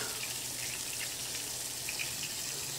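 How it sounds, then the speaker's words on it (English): Water pours steadily into a cooking pot of potatoes being readied to boil for gravy steaks, a continuous close gushing splash like a running tap that holds even throughout, with no talking. "I'm going to add a little water."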